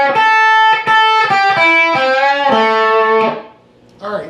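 A distorted electric guitar plays a bluesy lick with bent notes and quick phrases, loud and close, ending in a sustained bend before a brief pause and a new attack.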